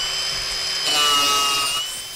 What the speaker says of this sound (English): So that's why we're going to use that grinding disc again, that sanding disc, really.